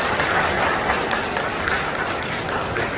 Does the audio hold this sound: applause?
yes